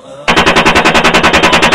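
Automatic weapon fire in combat: a loud, close, sustained burst of rapid, evenly spaced shots that begins abruptly after a quiet moment and runs steadily to the end.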